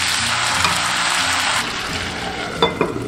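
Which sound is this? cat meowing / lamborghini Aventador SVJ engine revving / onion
onion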